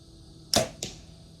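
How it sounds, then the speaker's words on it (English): Arrow loosed from an Elite Archery Omnia compound bow, a sharp snap followed a quarter second later by a second crisp thud, loud and close with no talk. "I'm gonna run some arrows through it and let y'all hear it"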